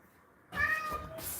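A cat lets out a loud, close meow lasting about a second, with strong harmonics, after a quiet lead-in and a brief higher-pitched tail at the end.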